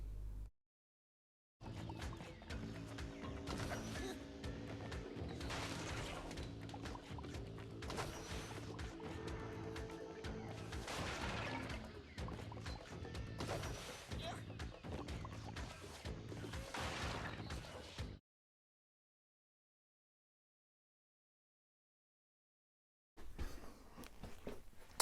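Crash Bandicoot gameplay plays continuously with music, crashes, thwacks and whooshing effects for about sixteen seconds, then cuts to silence before briefly resuming.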